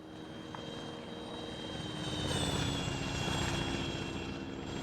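A military helicopter in the game Arma 3 makes a steady rotor and engine drone with a high turbine whine. It swells slightly louder partway through and plays with no talking.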